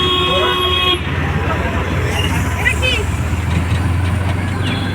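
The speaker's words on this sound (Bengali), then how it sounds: "বাস আসলো।" A bus arriving on a road at Jayanti More near Alipurduar, its horn tooting loudly at the start, then engine rumble and traffic noise close by, with people talking over it.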